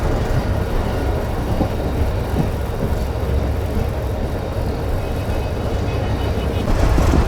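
A Millat Express train pulls out of Jambir station with a loud, steady rumble and clatter of rolling wagons that carries on without a break, growing slightly louder at the end.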